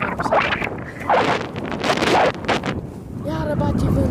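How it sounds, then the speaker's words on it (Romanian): Wind gusts buffet a handheld microphone outdoors during a walk, a loud roaring rush in bursts, with a voice speaking over it. "Iară bate vântul."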